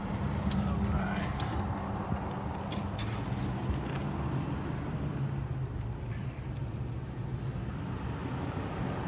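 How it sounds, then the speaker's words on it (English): A car rolls slowly through a residential neighborhood of townhomes in Flagstaff, Arizona, heard from inside as a steady low road and engine rumble with faint scattered clicks. "I'm going to take a quick drive through here real quick"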